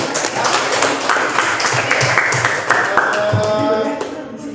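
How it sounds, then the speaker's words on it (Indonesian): Classroom applause for a student group, a dense mix of many clapping hands that fills the room steadily for several seconds and then fades, with voices talking faintly underneath. "kita tepuk tangan dulu dong untuk kelompok"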